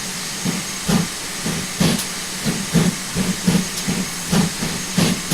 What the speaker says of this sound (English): Now I will go to the outside view and we will see the locomotive moving.